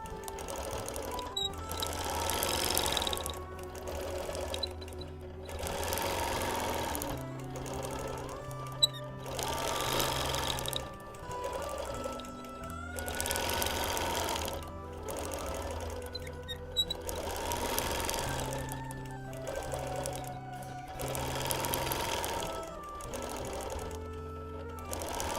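A quilting machine stitches an eagle outline on a Quilt of Valor in repeated bursts, each run of rapid mechanical stitching lasting a couple of seconds with short pauses between, fairly close and steady throughout.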